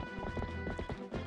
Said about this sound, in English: Going across Hyrule on my horse.